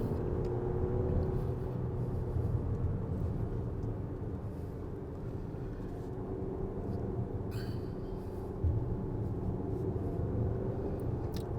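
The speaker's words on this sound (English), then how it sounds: "We'll overtake this car" Lexus RX350 with a 2.4L turbo and 8-speed transmission accelerates on the road to overtake a car, its engine and road noise forming a steady, loud broadband drone with a brief surge near the end.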